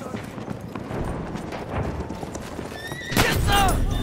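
A horse in the video game Battlefield 1 gives a loud, shrill whinny near the end, preceded by clip-clopping hooves and battle noise, all fairly close, without speech.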